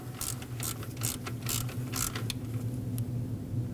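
A ratchet clicks in quick bursts while snugging the new alternator mounting nut on a 2009–2010 Dodge Ram 1500 with a 5.7L V8, sharp close clicks over a low steady hum.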